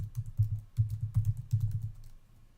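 Typing on a computer keyboard, entering text for a calculator program, with a steady run of close key clicks and thumps over about two and a half seconds and no talking.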